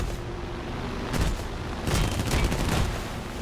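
The cannon and machine guns of a P-39 Airacobra fighter in the War Thunder game fire in two short, loud bursts of rapid rattling shots over steady engine drone.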